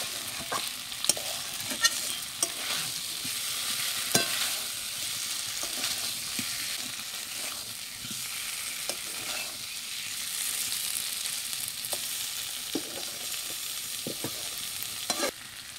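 Village-style egg curry masala made with ground spices fries in a pan after the oil has separated, with a steady sizzle and repeated scraping knocks from stirring, close and without talk.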